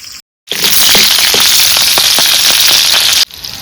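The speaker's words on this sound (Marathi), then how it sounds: "तर आता मिरची टाकते आधी फोडणी" A loud, steady sizzle of chilies dropped into hot oil for tempering, crackling with scattered pops, starting abruptly after a short silence and cutting off near the end.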